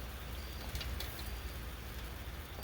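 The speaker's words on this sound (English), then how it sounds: "You can hear the rain. It's raining out there," Steady rain falls outside a restaurant kitchen, a soft continuous patter with faint drips, quiet and even throughout with no voices.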